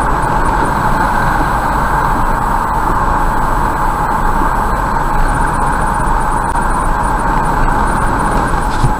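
Cars and trucks pull into a noisy roadside parking lot along the R297 highway, a continuous loud rumble of engines and traffic with no pauses or voices.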